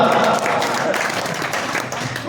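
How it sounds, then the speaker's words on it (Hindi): A crowd at a Hindi poetry gathering (kavi sammelan) held for the Ramdevji Bhadvi Beej festival breaks into loud, continuous applause that fades slightly toward the end, with some voices mixed in. "ताली बजाओ एक बार जोरदार"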